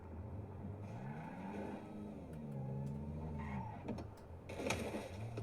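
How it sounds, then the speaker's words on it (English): An electric car driving in an online video game gives off a tonal motor whine that rises and falls with speed, with tire skids and a sharp clatter near the end. "Yeah, it is an EV, you can hear"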